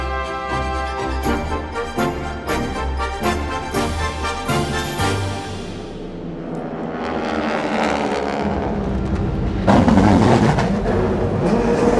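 Fifty race cars of the 12 Hours of Sebring sports car field surge away at the green flag start, a broad engine roar swelling after a tonal opening stretch and growing loudest near the end.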